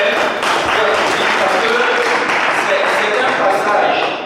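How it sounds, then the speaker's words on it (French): Loud, dense audience applause fills a hall after a poetry reading at the FESTILARTS 2023 festival, a sustained wash of many hands clapping close by from start to finish. "On peut applaudir"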